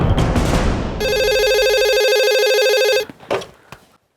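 Telephone ringing loudly in a home, one sustained electronic ring tone lasting about two seconds over a low rumble, then cut off by a few clicks and handling sounds.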